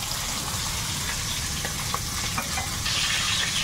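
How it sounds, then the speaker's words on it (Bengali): Ridge gourd being stirred as it fries in a large wok, a dense, steady sizzle close by with soft scraping strokes of the spatula running through it. "এইভাবে ঘাটতে পাবো বলেই বড় কড়াইতে নিয়ে ঘাটো"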